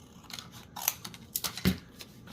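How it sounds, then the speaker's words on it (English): Scissors trimming leftover paper scraps for handmade ephemera: a quick run of crisp, close snips and rustles, irregular in rhythm, with no talking. "I'm gonna just trim these down and keep using them"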